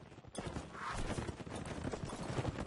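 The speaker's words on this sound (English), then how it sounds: "they're on horses." Horse hooves clattering in the medieval combat game Mount & Blade, a busy, quick-paced drumming of many hoofbeats mixed with scattered battle noise, moderately loud throughout.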